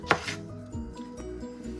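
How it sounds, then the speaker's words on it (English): Knife chopping potatoes into bite-sized pieces on a cutting board for a vegan potato, white bean and kale soup, with a sharp close cut at the start followed by a few softer thuds. "I'm just going to be chopping those into bite-sized pieces."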